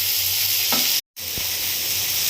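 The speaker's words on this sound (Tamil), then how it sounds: "இப்போ தக்காளியும் போட்டு வதக்க விடணுங்களா?" Tomatoes sautéing in a frying pan for a vegetarian South Indian meal give a loud, steady close sizzle that cuts out briefly, followed by a single stirring knock.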